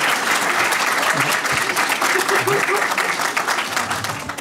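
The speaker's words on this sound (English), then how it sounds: "Let's clap quietly for" An audience at a talk on Indigenous supportive housing programs claps softly in a sustained, even round of applause that tapers slightly toward the end.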